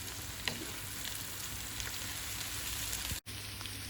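Asparagus and onions sizzle steadily in a frying pan, a close, even hiss with faint crackles and an occasional louder pop, briefly cut off near the end.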